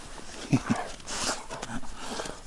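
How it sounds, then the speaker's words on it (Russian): A laika-wolf mix dog gives two short, soft yelps close by, followed by quieter rustling and faint background noise. "Самая лучшая собака."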